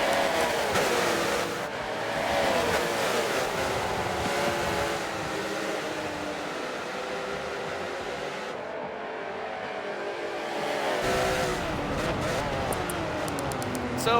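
Race cars in a racing video game roar around Silverstone at night, a dense, steady engine drone with shifting pitch as cars pass, and a commentator talks over the field throughout.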